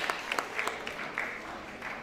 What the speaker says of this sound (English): A big round of applause for our HOD of Arts Department and the team who have been working behind it day and night